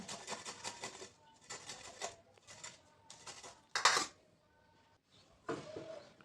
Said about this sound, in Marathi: त्यानंतर कोबी किसून घ्यायचा